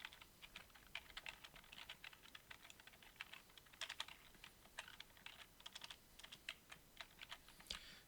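Rapid, irregular keystrokes on a computer keyboard as numbers are entered, a steady run of light close clicks alone with no talking.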